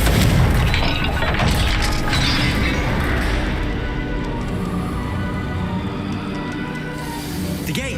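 Confringo blasting spell striking a gate in Hogwarts Legacy, a loud booming blast at the start with crashing debris, then a rumbling tail that slowly fades over several seconds.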